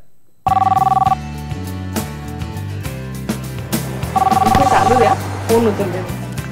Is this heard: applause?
no